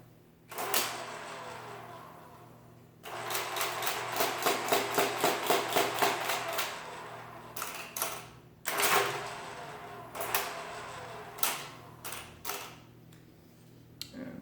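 Two Marchant Silent Speed mechanical calculators being set up, giving a close, dense run of rapid mechanical clatter followed by scattered sharp clicks and snaps with short pauses between them.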